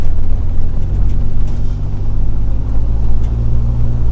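Steady low rumble of road and engine noise from inside a moving Jeep Wrangler with sound deadening installed, constant and droning with no talking.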